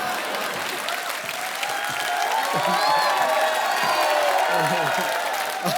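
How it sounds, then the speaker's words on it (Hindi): Studio audience at a Hindi comedy talk show bursts into loud, sustained applause with cheering, a thick continuous wash of clapping and crowd noise under a voice. "समर्थ के लिए जोरदार तालियां"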